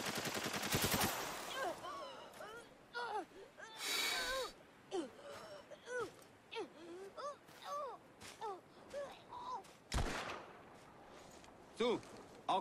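Gunfire in Spec Ops: The Line, a short loud burst at the opening and a sharp shot near the middle, with voices and effortful breaths or grunts between the shots.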